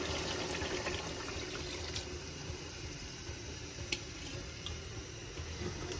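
Hot water is poured into a pot of beef curry, a faint, steady gurgling pour with soft bubbling and a few small clicks near the end.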